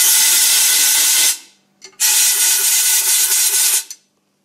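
Rag on a stick spun inside a Fox Float fork lower, a loud close swishing rub in two bursts separated by a brief pause.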